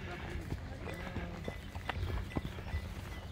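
Horse hooves clop in a steady walking rhythm during a horseback ride with two riders, close and moderately loud, while people talk over them.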